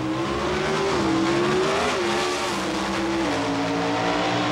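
Pro Stock drag race cars with 500 cubic inch engines burning racing gasoline through big four-barrel carburetors roar at an NHRA event, a loud, steady, close engine howl with shifting pitch that carries on throughout with no voices.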